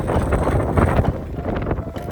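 Strong wind at a snow park rumbling loudly across the microphone, a constant low buffeting roar with no voices.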